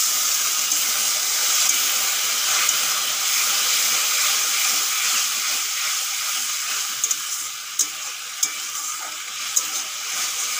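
Fried spices in a hot pan for a cauliflower, potato and tilapia curry hiss and sizzle steadily after water is added, with a few sharp pops and crackles toward the end.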